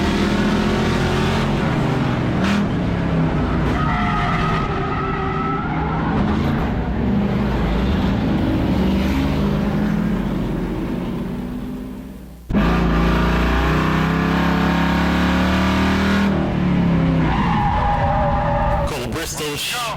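Race cars roar around the Auburndale short track as one spins after contact, tires skidding and engines revving hard and loud, with an announcer talking over the action.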